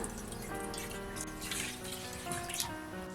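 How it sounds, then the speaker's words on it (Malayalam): About two glasses of water pour steadily into a pan with a continuous splashing rush, some brighter gurgling bursts along the way, no voices. "ഇനി ഇതുപോലെ ഒരു പാനിലേക്ക് ഒരു 2 ഗ്ലാസ് വെള്ളം ഞാൻ ഒഴിച്ചു കൊടുക്കുകയാണ്"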